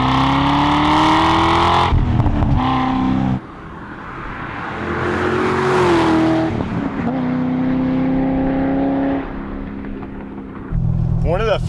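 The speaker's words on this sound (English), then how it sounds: "it also has an Akrapovic exhaust, which is their catback with titanium tip model. And that really just gives it this great sound" Corvette C6 Z06 with an Akrapovic titanium-tip catback exhaust, loud and close, revving up and settling in repeated bursts with a deep droning tone, briefly dropping off between pulls.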